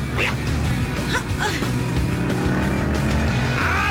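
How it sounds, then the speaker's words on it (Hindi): A car revving and accelerating in an animated movie, a loud, steady engine roar with rising bursts and a brief squeal, no voices over it. "बस एक्सीलेटर दबाओ और मॉन्स्टर की तरह चलाओ।"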